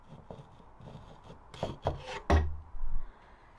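Scraping with a hand tool at the galley of a narrowboat during a painting refit, a few short rasping strokes, close and fairly loud, with quieter rubbing between them.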